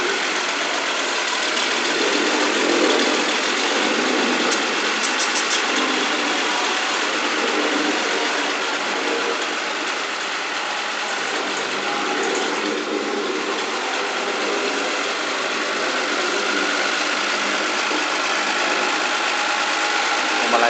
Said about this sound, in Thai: ทดลองก่อนส่ง ก่อนเข้าพ่นสีก่อนส่งลูกค้านะครับ เราดูรอบความเร็วของตัวรถ ครับว่ารอบความเร็วเท่าไหร่